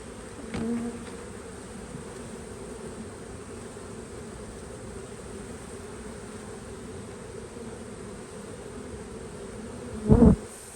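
Honey bees swarm around an open hive in a continuous low buzzing hum, with a couple of short bumps and clatters at the start and near the end.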